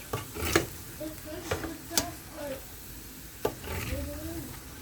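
A spoon scrapes and clinks in a pan of orange and lemon juice over low heat, with several sharp metallic taps among quieter stirring scrapes and faint bubbling, while a voice speaks softly in the background.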